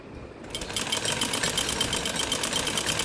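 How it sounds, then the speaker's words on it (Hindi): A sewing machine stitches salwar fabric in a fast, even mechanical chatter that starts after a brief pause and runs loud and close to the end. "ऊपर उल्टी साइड हम सिलाई करते जाएंगे। एक सीधी सिलाई करेंगे"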